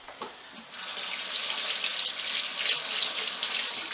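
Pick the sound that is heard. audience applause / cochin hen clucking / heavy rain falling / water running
water running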